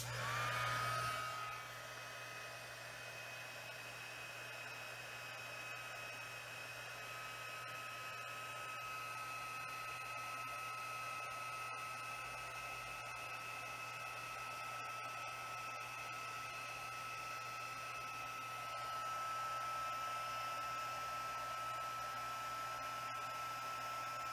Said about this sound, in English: I'm going to heat this up and melt that embossing powder